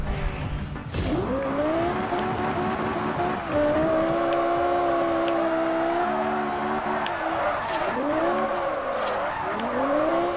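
A car in Forza Horizon drives with a steady engine drone and shifting pitch as it revs, with sharp tire squeals and skids breaking in repeatedly throughout.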